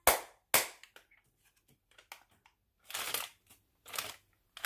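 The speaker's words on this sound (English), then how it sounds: "If you're happy and you know it, clap your hands" Hands clap along to a children's song about feelings, a few sharp, close claps spaced irregularly with quieter pauses between, then louder grouped bursts toward the end.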